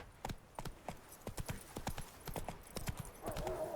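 Roach, the horse in The Witcher 3, galloping with a steady run of hoof clip-clops, close and fairly loud, with a faint neigh near the end and no talking.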